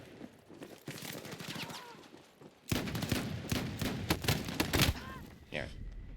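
Rapid gunfire rattles in Battlefield, bursts of sharp shots that grow denser and louder midway, with voices talking over the shooting.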